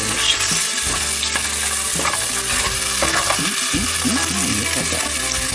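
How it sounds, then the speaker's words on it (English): Rice and black beans fry in a pan with a dense, close crackling sizzle that runs without a break. Utensil scrapes and stirring thumps punctuate it at irregular moments. "and let it fry"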